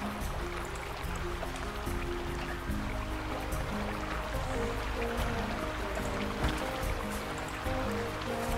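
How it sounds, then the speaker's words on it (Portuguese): A small waterfall in the zoo-building game Planet Zoo flows with a continuous, dense splashing wash, steady and moderately loud, without talk. "Virou uma cachoeirinha."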